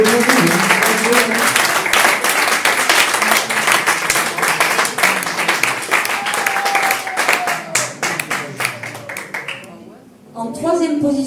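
An audience at a singing talent show applauds the singer David, a dense sustained wash of clapping lasting about ten seconds, with a voice talking over it and the applause briefly dipping near the end.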